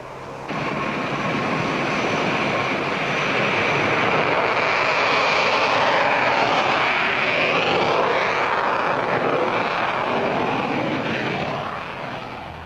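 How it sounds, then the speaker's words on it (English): A U-2 spy plane flies at high altitude, heard as a broad, steady jet roar that swells in the middle and fades slightly at the end, with no voices. "where the U-2 flies above most of the atmosphere"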